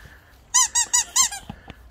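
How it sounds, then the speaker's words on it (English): A squeaky hamburger-shaped dog toy squeaks four times in a quick burst, sharp and close, and a few fainter clicks and thumps follow. "Squeaky hamburgers!"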